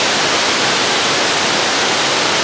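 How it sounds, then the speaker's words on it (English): A waterfall roars in a steady, loud, broadband rush that fills the whole stretch without pause, close by and with nothing else standing out. "Nice waterfall behind me."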